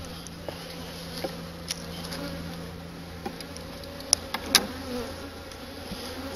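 Honeybees in an opened hive give a soft, continuous insect buzz at close range, with a few faint knocks and clicks from hive work now and then.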